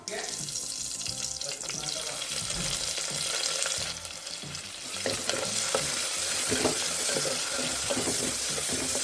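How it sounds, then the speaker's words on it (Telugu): Fenugreek-leaf tempering with coriander crackles and sizzles in hot oil, with busy popping and occasional stirring scrapes; the frying grows a bit louder partway through. "కొత్తిమీర కూడా వేసుకుని పచ్చివాసన పోయేంత వరకు ఫ్రై చేసుకోవాలి"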